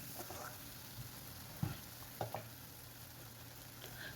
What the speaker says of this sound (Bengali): আলুটার মধ্যে দিয়ে দেওয়ার পরে খুব ভালো করে কিন্তু এটাকে ভেজে নিতে হবে।